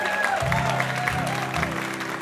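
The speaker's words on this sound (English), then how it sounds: "You deserve a big round of applause." Applause from the audience at a live radio show with music, heard as a steady wash of clapping while a held instrumental tone sounds beneath it.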